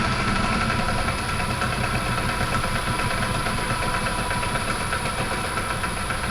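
A lathe motor turning steadily at 448 RPM, its speed set by a control knob, gives a continuous mechanical hum with a rattly vibrating texture, close and even throughout with no pauses.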